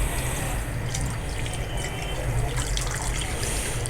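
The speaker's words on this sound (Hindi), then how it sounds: "ये वाला जो जूस है इसके अंदर डाल देंगे हम" Black plum (jamun) juice poured into a wok: a continuous close splashing, gurgling stream of liquid that runs steadily for a few seconds with no voices over it.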